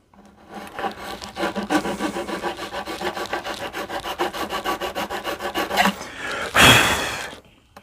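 A small file rasps back and forth in the nut slot of a Firefly Les Paul style guitar, clearing old glue residue, with steady rhythmic close strokes, then a brief louder scrape near the end.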